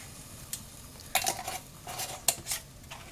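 Filled quart jars of home-canned chili clink and knock as they are set into a canner, a few sharp glassy contacts and scrapes spread over a couple of seconds against a quiet background.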